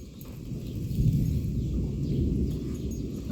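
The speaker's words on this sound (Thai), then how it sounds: "เจ้าฟังในเสียงฟ้า" A low, rolling rumble of thunder swells and lingers, with a steady hiss of rain in the background.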